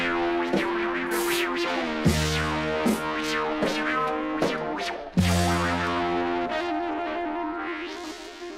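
A rock song sample pitched up two notes plays as a looped riff of bright, ringing plucked chords with sustained tones and sharp attacks, recurring every couple of seconds, loud and clear with no voices.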